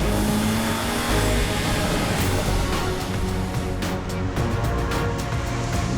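A Lotus Elise sports car on a mountain pass road, its engine held at high revs, a loud steady strained roar that barely dips across the stretch, with no talk.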